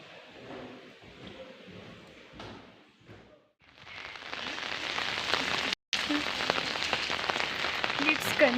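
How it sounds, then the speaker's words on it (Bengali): Steady monsoon rain in the Darjeeling hills patters on a surface, growing denser and louder after a quieter, sparser start with some faint background sounds. "বৃষ্টি ক্রমশ বাড়তেই থাকে।"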